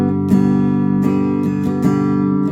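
Guitar strumming a 1-4-5 chord progression in G with traditional voicing, several ringing strummed chord changes, close and clear with no talking.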